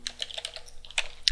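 Rapid typing on a computer keyboard as a Linux package install command is entered, a close, uneven run of crisp key clicks with a louder cluster near the end, no voices.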